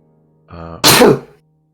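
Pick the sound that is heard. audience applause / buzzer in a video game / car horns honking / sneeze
sneeze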